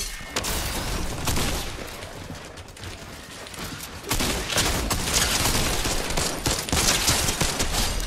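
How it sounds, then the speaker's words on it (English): Rapid bursts of gunfire from a pump shotgun in the video game Fortnite, dense and continuous with sharp cracks and mechanical clatter over busy in-game noise, loud and close throughout. "Pump shotgun."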